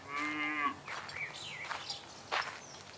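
A cow named Daisy, being led along a road to market, gives one clear, close moo lasting under a second, followed by faint bird calls and soft footsteps in a quiet outdoor setting; no one speaks.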